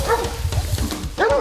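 Hunting hounds bark in quick, overlapping bursts while chasing a bear through North Carolina bear country, loud and close with a few yips and whimpers among the barks.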